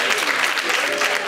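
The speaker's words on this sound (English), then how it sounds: "On applaudit, on applaudit." Audience applause at a live gospel concert in Paris: a thick, sustained wash of clapping from a large crowd, loud and close, with faint voices mixed in.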